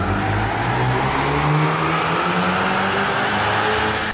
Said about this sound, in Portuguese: A gente vai fazer a primeira puxada do carro com o software já e todas as peças upgrade já instaladas no carro.